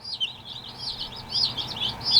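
Yellow meat bird chicks cheep in quick, high repeated chirps, several overlapping, fairly faint against a quiet background.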